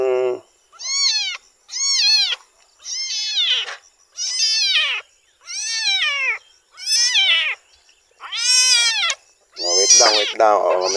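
A rescued newborn kitten meows loudly and repeatedly, about nine high, plaintive cries in a steady rhythm with short gaps, close up and alone.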